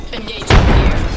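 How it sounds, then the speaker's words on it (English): A grenade detonates in the video game Apex Legends with a sudden heavy boom and a rumbling low tail, loud and close and following a brief stretch of game noise. "Throwing grenade."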